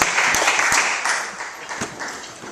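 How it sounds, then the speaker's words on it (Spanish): A church congregation breaks into applause at the preacher's call, a dense close wash of clapping with several sharp individual claps standing out, gradually thinning over a few seconds. "Dale su fuerte aplauso a la gloria de Dios"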